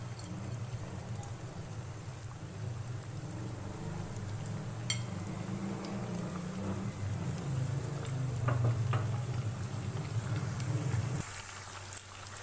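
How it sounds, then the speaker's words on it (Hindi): Chicken wings frying one by one in hot oil over a medium-low flame, giving a steady, fairly loud broadband sizzle and bubbling hiss with a few faint clinks and no talking. "अब हम शामिल करेंगे एक एक करके विंग्स। मीडियम लो फ्लेम पे हमने फ्राई करने हैं अच्छी तरह गोल्डन ब्राउन होने तक।"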